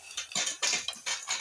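Crab pieces scooped into a pot of sautéed masala, a quick run of close metallic clinks and scrapes of spoon on pot in short bursts, no speech.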